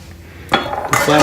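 A spoon scrapes and clinks against a pan while stirring a gluten-free, dairy-free figgy pudding mixture with flour, beginning after a quiet moment and growing into close, busy scraping.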